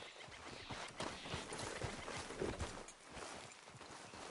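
Horse hooves clip-clopping at a steady walking pace in Red Dead Redemption 2, a continuous run of soft irregular thuds close by, with no voices over them.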